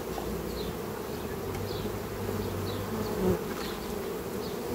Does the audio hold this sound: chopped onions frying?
no